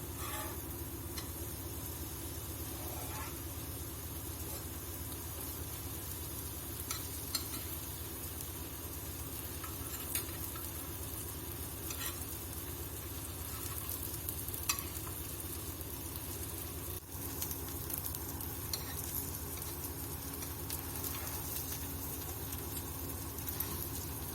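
Garlic bread fries in butter in a pan, giving a steady, close sizzle that holds throughout, with occasional light clicks and scrapes as it is flipped.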